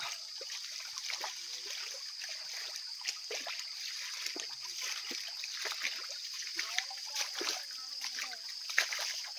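Water in a small stream beside a farm path splashes and trickles, with an irregular run of faint light splatters over a soft steady flow.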